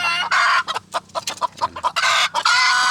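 Several chickens cluck and squawk close by in a quick, uneven series of bursts, with a short rooster-like call mixed in.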